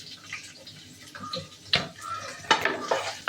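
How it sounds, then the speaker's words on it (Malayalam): Sliced onion goes into a pot of ghee and whole spices for prawn biryani, with sharp clinks and scrapes of a spoon against the metal pot over a soft sizzle. "അപ്പം നമുക്കിതിൽ ഈ സവാള ചേർക്കാം."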